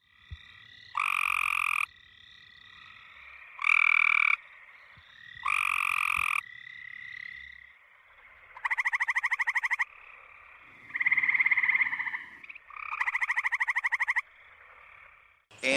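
Six trilled gray treefrog male mating calls, each a loud buzzy pulse lasting about a second, separated by short gaps of quiet, close by.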